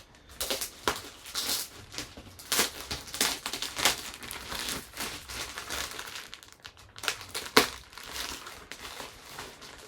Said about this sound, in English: I'll just rip that one open without the knife.